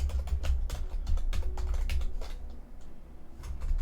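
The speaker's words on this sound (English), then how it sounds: "My keyboard is starting to miss characters, it seems like." Fast, uneven clatter of keys on a computer keyboard, near and fairly quiet, with rapid bursts that pause briefly before resuming, and no voices.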